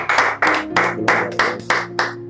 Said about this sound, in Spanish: Quiero que recibamos con un fuerte aplauso en este espacio a Jonathan Ventura